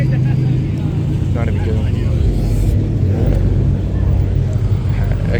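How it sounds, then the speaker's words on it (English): A Japanese-market turbocharged car with a very loud wastegate, heard as a heavy, steady engine rumble close by with a brief breathy burst, while someone speaks over it. "This thing has the loudest wastegate I've ever heard in my life."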